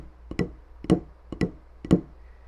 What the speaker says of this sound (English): one of the first rudiments that I ever learned was a flam